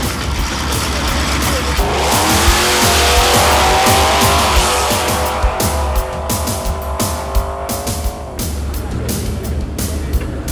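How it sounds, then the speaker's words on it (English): Drag racing cars' engines scream and rise in pitch as they launch and accelerate hard, with sharp bursts and tire noise, loud and close throughout. "So we got big time drag racing here."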